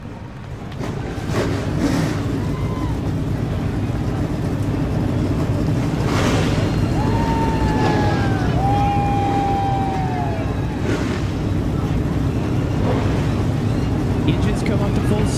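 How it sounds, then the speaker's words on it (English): Race car engines in iRacing at Talladega Superspeedway roar as a steady, loud drone, with rising and falling revs as the field starts up, and an announcer talks over it. "Drivers, start your engines."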